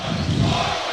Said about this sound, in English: Massive roar from our Mountain Crest crowd as the Mustangs are up by 3.